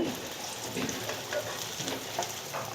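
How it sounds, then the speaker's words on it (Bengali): Chital fish koftas fry in a pan with a steady, dense sizzle and crackle, close and fairly loud throughout, with no talking. "ভালো করে ভাইজা নিচ্ছি, এই পিঠ ওই পিঠ সুন্দর করে ভাইজা নিচ্ছি।"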